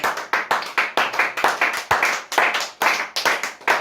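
A church congregation claps together in a brisk, rhythmic beat, loud and close, a long run of sharp, even hand claps with no pause.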